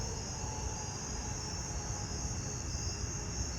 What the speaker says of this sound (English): The Carolina ground cricket's back there.